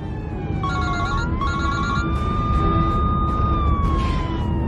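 An ambulance siren wails steadily and loudly from inside the moving ambulance, its pitch sliding up and down over a constant engine rumble.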